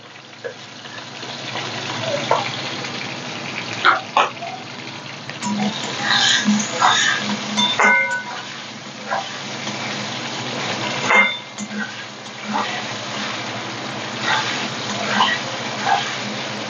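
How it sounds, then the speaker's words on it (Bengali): Potatoes fry in hot oil in a pan, a low continuous sizzle broken by sharp spitting pops and occasional utensil clinks, with someone talking intermittently over the cooking. "লবণটা দিয়ে দেবো, নাহলে তেল ছিটকাচ্ছে।"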